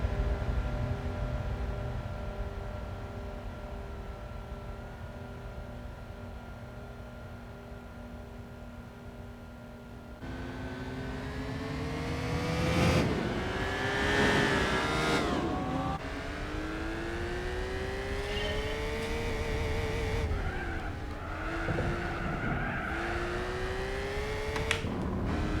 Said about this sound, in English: In a BMW M3 CSL E46 on the Nürburgring